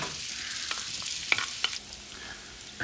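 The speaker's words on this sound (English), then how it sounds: "I have these onions grilling or sauteing in the bacon fat" Onions sautéing in bacon fat for Texas chili, a steady soft sizzle with a few sharp clicks and taps of a utensil against the pan, close but quiet.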